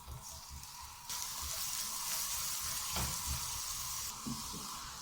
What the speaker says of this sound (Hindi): अब इसमें मैं ये लहसुन अदरक डाल रही हूँ चॉप किया हुआ, इसको हल्का सा सौते करते हैं